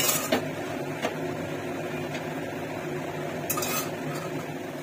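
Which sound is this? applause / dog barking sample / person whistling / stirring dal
stirring dal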